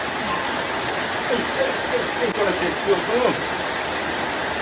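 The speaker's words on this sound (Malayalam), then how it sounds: "കുറച്ച് നല്ല മഴ ഉണ്ട്" Heavy summer rain pours down in a dense, steady hiss, close and continuous throughout.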